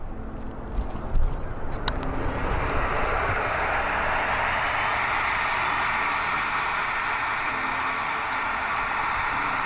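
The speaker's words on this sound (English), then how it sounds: "it sounds like a jet engine" A loud jet-like roar from a CNC router dust collection or mixer machine runs steadily, spooling up from a lower rumble into a sustained high whine, heard close with no talking.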